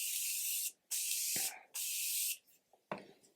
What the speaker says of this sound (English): I'm using my Morphe Continuous Setting Mist.